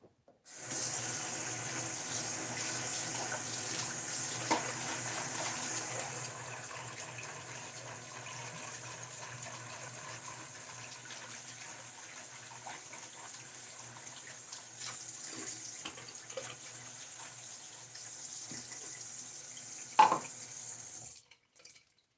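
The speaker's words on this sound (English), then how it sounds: "I'll rinse up my bowl here" Tap water runs steadily into a sink as a shaving bowl is rinsed, a continuous close splashing flow for about twenty seconds with a brief louder clatter near the end.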